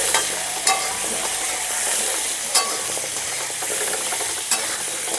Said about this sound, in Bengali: আমড়াগুলোকে একটু ভেজে নেব